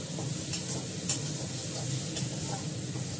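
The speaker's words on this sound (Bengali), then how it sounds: "পেঁয়াজটা ভালো করে করছি" Onions frying in a pan with turmeric in a home kitchen, giving a continuous dense sizzle with faint scraping and light ticks as they are stirred.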